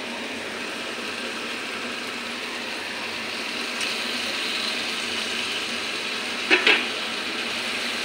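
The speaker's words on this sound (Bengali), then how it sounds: "মাছের সঙ্গে মশলাটা মিশিয়ে নিই" Fried fish pieces and a cooked-down spice paste sizzle steadily in hot oil in a pan with tomato and onion, a continuous close frying hiss with a couple of brief scraping clinks from stirring near the end.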